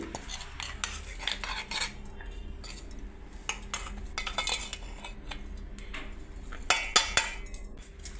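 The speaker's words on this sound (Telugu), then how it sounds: "అంతా బాగా కలిపెట్టుకున్నాం" A utensil scrapes and clinks through cooked rice mixed with a raw mango preparation in a metal vessel, continuous close stirring with scattered sharper clinks near the end, no voices.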